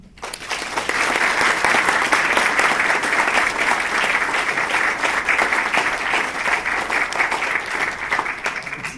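Audience applause welcoming photographer and Boise State photography professor Larry McNeil to speak, a steady, dense clapping from a full room that swells within the first second and holds at an even level throughout.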